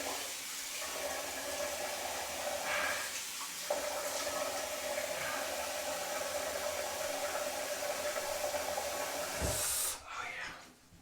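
A bathroom tap runs steadily to wet the face before a shave, a continuous hiss of water that cuts off abruptly near the end.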